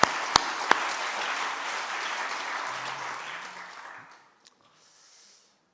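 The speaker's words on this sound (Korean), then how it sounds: "우리의 찬양과 예배를 받으신 하나님께 영광의 박수를" Church congregation applauding together in praise during a Korean early-morning prayer service, a dense sustained wash of clapping that fades out after about four seconds, leaving near silence.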